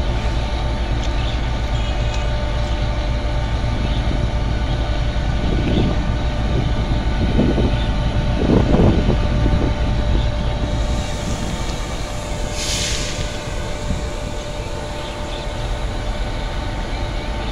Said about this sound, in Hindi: GEU-40 की क़यादत में five up green line slowly through pass हो रही है रहीम यार खान रेलवे स्टेशन से।